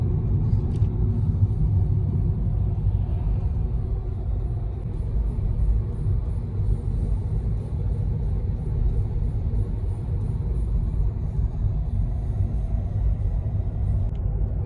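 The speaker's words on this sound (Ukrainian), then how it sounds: "Автомобіль трішки розганяється" Interior rumble of a Volkswagen e-Golf electric car driving on a road toward Lviv, a steady low road and tire drone that swells slightly as the car gently speeds up, with no talk over it.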